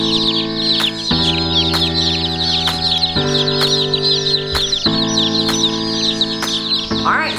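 A box of newly shipped hatchery chicks peeps constantly, a dense high-pitched chorus of many birds close by, with a steady hum underneath.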